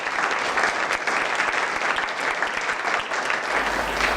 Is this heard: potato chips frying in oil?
no